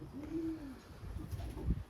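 Young pigeons cooing inside a loft, a single soft rising-and-falling coo up close over a low murmur of other birds shuffling and faint calls.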